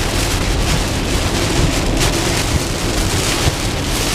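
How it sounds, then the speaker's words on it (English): Heavy winds and rain roar loud and steady in the eastern eyewall of Tropical Storm Emily near Palmetto, Florida, a dense continuous wash with occasional low thumps and gusts throughout. "some very heavy winds."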